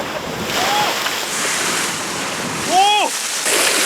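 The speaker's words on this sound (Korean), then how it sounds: "이렇게 파도가 몰아쳐서" Ocean waves surging against a rocky seaside fishing spot where people catch spring fish such as surfperch and flounder, a steady broad wash of surf with wind noise and a voice briefly calling out over it.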